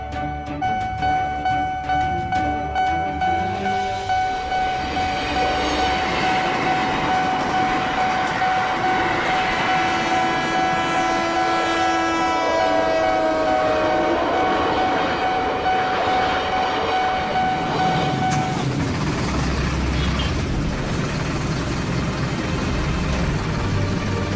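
A train rolls loudly through a railway crossing where traffic sits jammed. Its steady rumble and wheel clatter last throughout, with sustained horn-like tones in the middle, and no one speaks.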